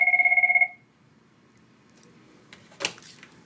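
A telephone rings in an office with a repeating electronic trill for under a second, loud and alone, followed by quiet room tone and a brief knock or clunk near the end.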